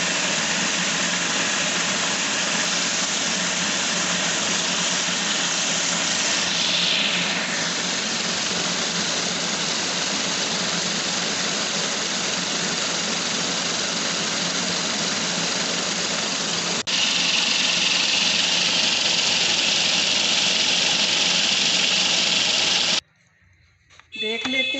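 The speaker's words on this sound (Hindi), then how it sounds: "अब हम अलसी को भी ग्राइंड कर लेंगे, भून के हमने रखी थी, अब हम ग्राइंड कर लेते हैं।" A grinder pulverising roasted flaxseed gives a loud, sustained, high-pitched motor whir with a rattling, gritty texture that holds for over twenty seconds before stopping abruptly.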